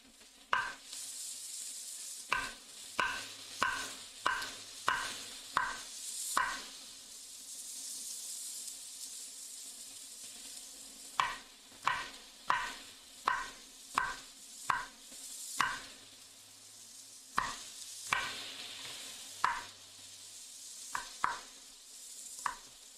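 Onion and bell pepper cook in a pan for jollof rice, a faint low sizzle under a long series of sharp, evenly spaced clicks and taps from spatula or knife, close and quiet with no talking.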